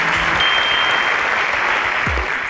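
Audience applause at a school quiz competition after a correct answer, a dense, steady burst of clapping from a crowd lasting a few seconds with a few faint voices mixed in.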